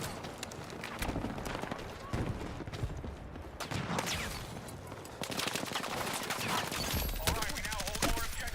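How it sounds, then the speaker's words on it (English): Several players firing at once in a Battlefield 6 match, including a tank, giving steady overlapping gunfire with rapid rattling bursts and heavier thumps, loud and continuous, with talk in places. "Five people shooting up at the same time."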